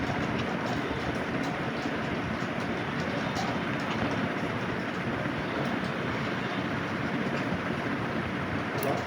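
A train rolls along steadily in the horror video game Granny 3, a continuous loud rumble with faint rail clatter and no pauses throughout.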